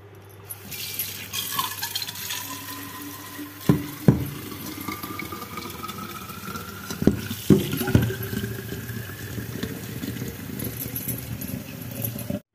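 Water runs into a bottle for watering chili seedlings, a continuous pouring and filling sound with rising pitch, broken by a few clinks and knocks of handling, with no talk.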